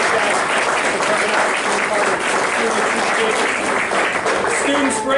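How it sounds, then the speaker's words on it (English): Audience applauding judges as they leave a student engineering design event, steady dense clapping filling the room throughout, loud and continuous, with some voices mixed in. "how about one more round of applause for our judges again"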